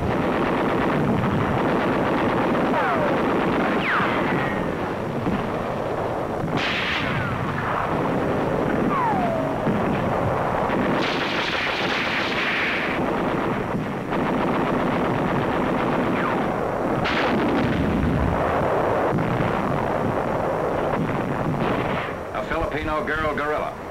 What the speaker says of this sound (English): The enemy uses mortars, rockets, and artillery to hinder our advance.